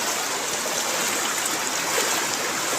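Floodwater pours across a road near Haripur in a steady, loud, unbroken rushing gush with no voices.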